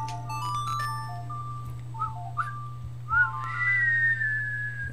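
A short melody from the Sun Song played on the ocarina in The Legend of Zelda: Ocarina of Time, a bright, pure, whistle-like tune of rising and falling notes over a steady low hum, with no talking.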